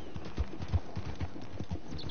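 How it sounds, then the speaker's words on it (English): Horse hooves clip-clopping in the Red Dead Redemption video game, a steady walking rhythm of soft, evenly spaced thuds, close and alone with no talk. "Today we are taming a horse, so let's go."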